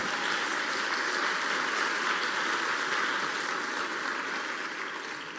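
A church congregation applauds, a dense, steady roar of clapping that carries on unbroken and fades slightly at the end, with no speech over it.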